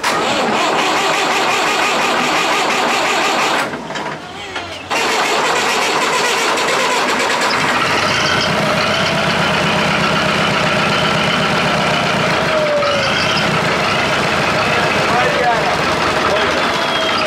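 An old diesel engine saved from scrap cranks and coughs, briefly cuts out, then fires and settles into a loud, steady, rough idle close by, with people talking over it.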